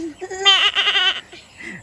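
A voice imitates a goat's bleat, giving a wavering, quavering cry about a second long, then a brief fainter vocal sound at the end.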